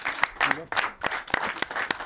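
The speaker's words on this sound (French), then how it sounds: "On applaudit Fares, s'il vous plaît." Audience applause for a performer named Fares at a live comedy-style show, a short burst of dense clapping with some crowd noise, fairly close and lively throughout.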